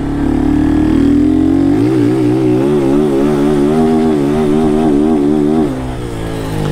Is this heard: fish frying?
no